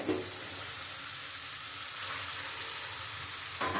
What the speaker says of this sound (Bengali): এবার চিংড়ি মাছটা দিয়ে একটু কষিয়ে নেব